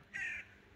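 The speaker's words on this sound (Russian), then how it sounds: "Вороны, привет." A single short caw from a crow rings out faintly outdoors, one harsh call over quiet background noise.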